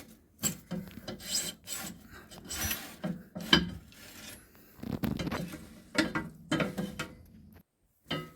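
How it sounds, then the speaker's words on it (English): Rough scraping and rasping in uneven bursts as a sweep's rod is turned by hand up a wood stove chimney flue, rubbing and grinding with short pauses between strokes. "I'm just going to slowly and very gently turn it as it goes up the chimney"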